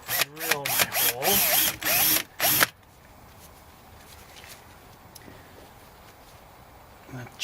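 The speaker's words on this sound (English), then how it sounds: "drill my hole." A power drill bores a hole for mounting a rear mud flap on a 2013 Subaru Crosstrek, whirring up in several quick, close, loud bursts before falling quiet.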